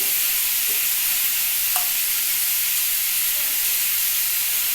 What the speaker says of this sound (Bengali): এখানে আমি এটা দিয়ে একটু কষিয়ে নিচ্ছি মশলা ঝিঙেটাও কষিয়ে নিলাম